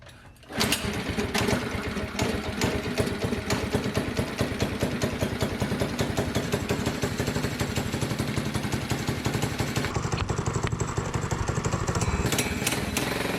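A small engine on a drift kart starts up and runs with a loud, rapid buzzing putter that holds a steady idle-like pulse, close by and continuous, with slight shifts in tone near the end.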